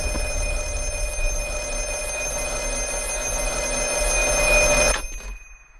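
Telephone ringing in a scene from the film The Black Phone: a loud, continuous bright bell ring that holds for about five seconds, then stops abruptly and leaves near silence.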